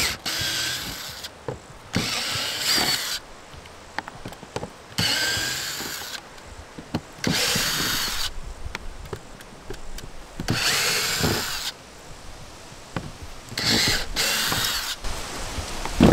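A power drill drives screws into a salvaged mobile home roof in repeated bursts of whirring and ratcheting, each lasting about a second and separated by short pauses, loud and close.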